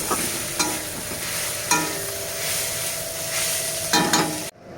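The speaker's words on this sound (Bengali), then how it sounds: "তো আমার এখন উচ্ছে কুমড়ো ভাজা হয়ে গেছে" Bitter gourd and pumpkin frying in a pan sizzle steadily, with several sharp stirring scrapes from a spatula recurring at irregular intervals, close and fairly loud, ending abruptly.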